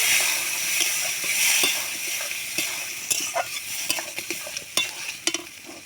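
Dal poured into fried tadka masala hisses and sizzles in the pan, with a spatula scraping and tapping as it is stirred, the clatter growing busier toward the end; close and without speech.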